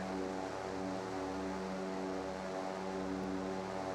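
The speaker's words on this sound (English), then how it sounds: "he clearly hears the plane" A patrol aircraft in the naval video game Sea Power drones overhead as a steady, loud propeller engine hum with a layered tonal buzz, holding constant throughout.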